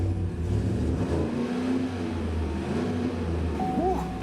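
A Chevy Silverado pickup with a Flowmaster American Thunder exhaust rumbles and revs nearby, a steady deep engine tone swelling through the throttle blips, with faint voices under it.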